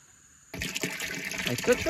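Water rushes freely through a sand filter once its float valve has been removed. After half a second of near quiet, a sudden gush starts and keeps splashing and churning.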